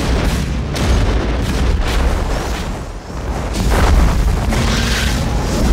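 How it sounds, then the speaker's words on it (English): A movie bomb explosion from The Fifth Element: a loud, rumbling, sustained boom with heavy low-end blast and debris noise rolling on for several seconds. "set off their own bomb right next to Zorg."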